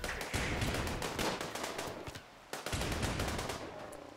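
Rapid gunfire during a siege battle in the colony video game Rimworld, bursts of sharp cracks and pops in quick succession, moderately loud, with a short lull midway before the shots resume.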